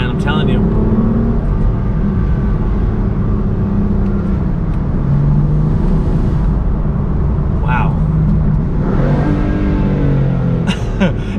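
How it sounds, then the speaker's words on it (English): BMW M4 turbo engine revving through a rev-match downshift, heard from inside the car as a steady droning growl with brief rising blips, while people talk over it throughout. "Rev match downshift, you gotta love that."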